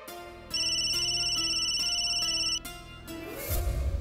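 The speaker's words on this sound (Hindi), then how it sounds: "फोन क्यों नहीं उठा रहे?" A phone ringtone rings in a steady repeating electronic pattern at close range for about two seconds, then cuts off as other sounds and a low rumble take over.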